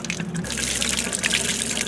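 Water drains steadily from the hot water tank of an R-Pod travel trailer during winterization, a continuous close gushing and splashing flow heard alone without talk.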